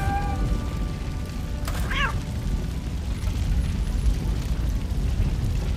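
A cat meows once, briefly, inside the game RoboCop: Rogue City, set against a constant loud low rumble of fire with a short crackling burst just before it.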